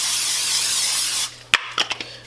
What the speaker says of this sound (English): spray that pan up